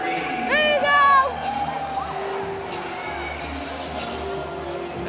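A football crowd in Omaha cheers and whoops at a Legends Football League women's game, a loud swell of shouts early that settles into a steady murmur under an announcer's talk.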